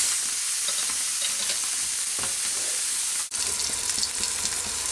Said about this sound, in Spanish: echaremos el magret por la parte de la piel